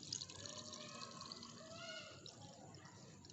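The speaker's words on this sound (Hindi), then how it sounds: "अब हम इस पानी को इसमें से स्टेन कर रहे हैं कप के अंदर।" Water that rice has soaked in is strained into a cup, producing a faint, continuous trickle and dribble of liquid over a low steady hum, quiet and close.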